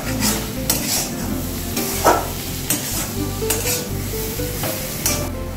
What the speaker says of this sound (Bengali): একটু ঘেটে নেব।